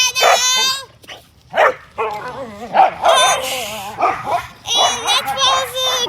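Pet dogs bark and yip in a series of close, loud bursts with whimpering tones, mixed with a voice talking between them.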